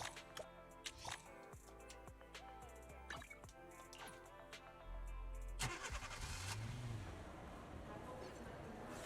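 A car engine starts up in the game Zenless Zone Zero, a low rumbling idle kicking in after a stretch of music and game sounds, holding steady with a rising whine near the end.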